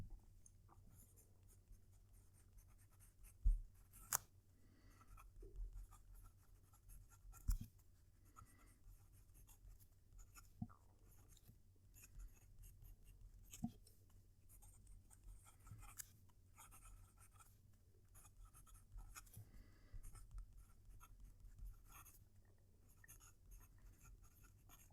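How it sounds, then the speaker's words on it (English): A Lamy Safari fountain pen nib scratches across paper close to the microphone, faint soft strokes with occasional sharper taps as the pen lifts and lands. "I'm going to move the microphone down to the paper so you can hear the nib write"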